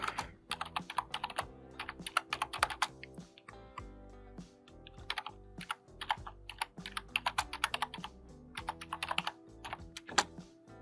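Rapid, uneven keystrokes rattle on a computer keyboard for about eleven seconds, steady bursts of clicking with no talking.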